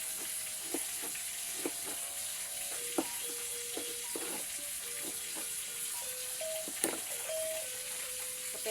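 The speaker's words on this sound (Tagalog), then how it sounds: "Prito ko lang itong 4 na piraso na galunggong guys." Four galunggong fish fry in a hot pan with a steady, moderately loud sizzle and crackle, broken by occasional sharper pops and clinks, with no voices.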